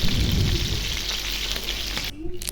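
Kural fish sizzles in a frying pan with a continuous close crackling hiss that cuts out abruptly near the end, followed by a brief quieter moment and a few soft knocks.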